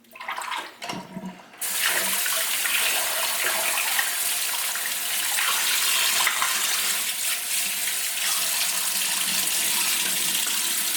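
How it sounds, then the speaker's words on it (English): Tap water runs steadily into a bathroom sink while a face and beard are rinsed after shaving, a loud continuous splashing gush after a brief start, close and alone. "I'm just gonna rinse everything off really good"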